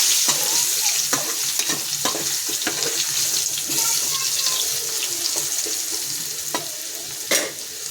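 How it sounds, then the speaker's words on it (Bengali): Potatoes fry in hot oil in a pan, a continuous close sizzle with intermittent scraping stirs and a few clicks of the utensil, and no talking. "আলুটা একটু ভাজা ভাজা করবো।"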